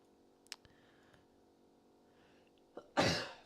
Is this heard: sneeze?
yes